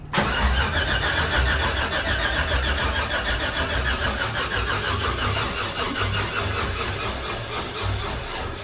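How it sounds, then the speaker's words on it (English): An LS V8 swapped into a Ford F100 truck with a six-speed cranks and fires for its very first startup, then settles into a loud, lumpy, steady idle close by with no talk over it. "Be the very first startup of the truck."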